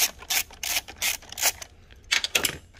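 Screws are worked out of a trim panel in a Honda Civic with a Phillips screwdriver or 8mm socket, giving a series of quick, close ratcheting clicks in short bursts with brief pauses between.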